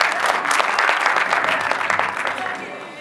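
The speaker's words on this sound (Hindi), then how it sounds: "तो पाकिस्तान के लिए तालियां बजाया करें" A conference audience at Alhamra Art Center bursts into loud, sustained applause, dense clapping that gradually thins and softens toward the end.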